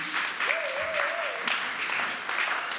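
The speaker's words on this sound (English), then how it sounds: "Can we clap for a man?" An audience at a church birthday thanksgiving celebration applauds steadily, filling the space with dense, continuous clapping. A faint voice or tone rises briefly underneath the applause.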